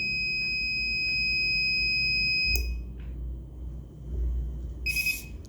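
The buzzer on an RFID access control system with a servo lock sounds a steady high-pitched electronic tone for about two and a half seconds, close and loud, then a brief second beep follows amid faint handling noise.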